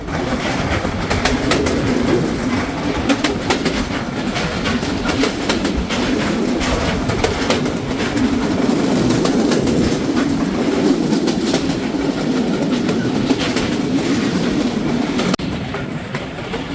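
The nonstop Tungipara Express from Rajshahi to Ishwardi runs through Nandangachhi railway station, heard from on board as a loud, steady rumble with rhythmic clickety-clack of wheels over rail joints throughout.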